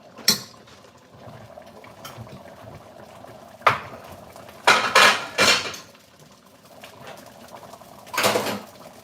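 Chinese-style fakeaway curry and rice being plated up, with scattered clinks of cutlery and dishes, a few louder clattering bursts of spoon against plate, and a soft bubbling background in a home kitchen, no talk.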